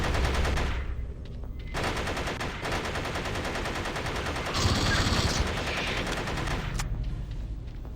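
Sustained automatic gunfire from a marine's weapon in the Aliens vs Predator 2 video game, rapid continuous bursts firing at a target through a wall, loud and steady for several seconds with only brief breaks.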